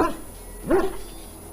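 An injured dog in a fantasy role-playing video game whimpers once, a short, close whining yelp standing alone over a faint background hum.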